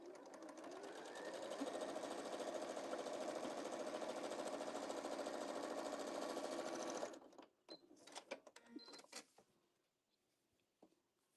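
A sewing machine runs steadily for about seven seconds, stitching along both sides of a fabric bee pouch, then stops and gives way to a few light clicks and handling sounds.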